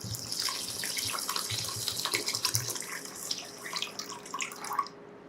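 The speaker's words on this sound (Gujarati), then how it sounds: "પછી આમાં પાણી ઉમેરી દેવાનું।" Water poured from a tap onto washed rice in a vessel, a continuous close splashing stream with gurgling, trickling texture that stops abruptly near the end.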